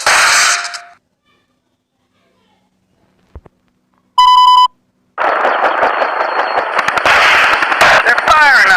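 Cannon fire rings out on an airship in a video game: a loud explosive burst, a silent gap, a short electronic tone, then a long run of rapid crackling blasts, with game voices present.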